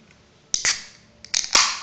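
Energy drink can being opened, a Simpsons Flaming Moe novelty drink: a few sharp metallic clicks and a crisp pop-hiss of the tab, close and fairly loud, in two bursts with a brief pause between.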